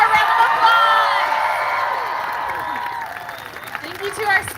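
A crowd at a live gathering cheers and claps for speakers, with whoops and raised voices riding over the applause, loudest at the start, then easing and swelling again briefly at the close.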